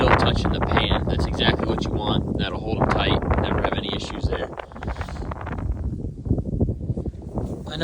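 Outdoors, heavy wind buffets and rumbles against the microphone throughout, while someone talks steadily under the gusts.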